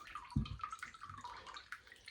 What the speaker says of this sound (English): I can use this water as well to remove the soil